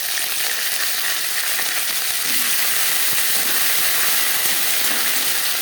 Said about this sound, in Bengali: তেজপাতা, গোটা জিরে। দশ 15 সেকেন্ড ভেজে নেওয়ার পর দিয়ে দেব খুবই সামান্য পরিমাণে আদা বাটা